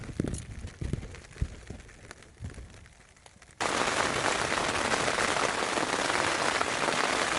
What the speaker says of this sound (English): it's not stopped raining for 4 hours. Heavy rain.